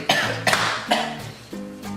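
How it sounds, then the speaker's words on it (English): Several people coughing close by in a home kitchen, a quick run of four or five loud, harsh coughs and throat clears in about two seconds. "No, where's coughing? We're coughing."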